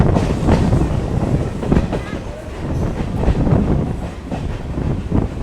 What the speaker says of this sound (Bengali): তো আমাদের ট্রেনটা ছেড়ে দিল হচ্ছে টালা স্টেশন থেকে